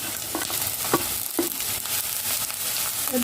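Onion, carrot and capsicum stir-fry over a high flame for Chinese bhel, giving a continuous close sizzle broken by a few sharp scrapes and stirs of the spatula, with no talking.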